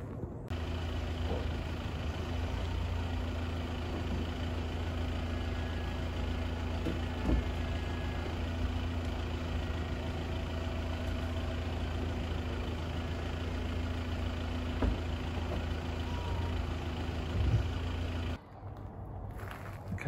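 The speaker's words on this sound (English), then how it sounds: "let me take the roof down and then show you inside the car" Audi A5 S Line convertible with its soft roof being lowered: a steady mechanical motor hum over a low idling engine runs for about eighteen seconds, then cuts off, leaving a quieter engine rumble.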